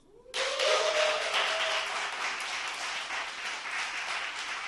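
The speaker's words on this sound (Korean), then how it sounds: "박수 많이 쳐주시니까 좋아요." Studio audience applause on a Korean political talk show, starting abruptly and holding as a broad, steady wash of many hands clapping throughout.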